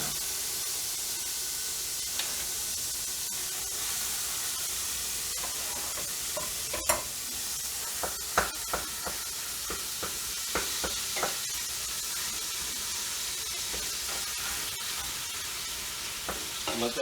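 Ground turkey frying in bacon fat in a pan, a steady close sizzle and hiss running throughout, with scattered sharper pops and scraping stirs of a utensil standing out over the constant frying noise.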